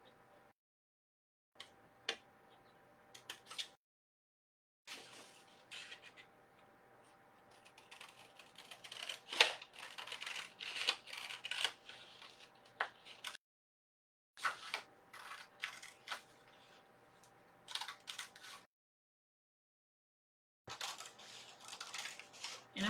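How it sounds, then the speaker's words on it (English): Paper scissors cutting through brown paper bag along a chalk outline, a series of crisp snipping bursts separated by short pauses, close and fairly quiet. "And I'm using my paper scissors."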